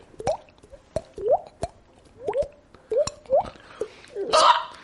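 A voice imitates water dripping with a regular series of wet plops and clicks, about two each second, close and clear.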